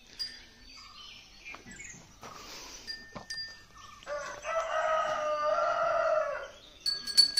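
Roosters crow on a village morning in the Konkan countryside, one long, fairly close cock-a-doodle-doo rising clearly above quiet surroundings, with fainter bird calls and a few scattered knocks around it.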